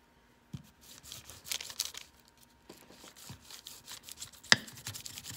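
Wax paper crinkles and rustles as it is laid over and handled on polymer clay, a quiet close sequence of soft irregular crackles with one sharper snap near the end, with no talking.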